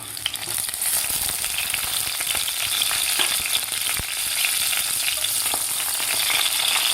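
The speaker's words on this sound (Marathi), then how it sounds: "आता तेलामध्ये आपल्याला एक कापून मीठ लावून घेतलेले वांगे घालायचे आहेत." Salted cut eggplant hits hot oil in a kadhai, giving a loud, continuous close sizzle and crackle that stays steady throughout with no talk.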